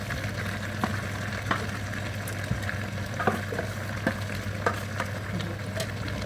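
Okra and onions fry in oil in a pan over a lowered gas flame, a steady close sizzle with scattered pops and stirring clicks over a low hum.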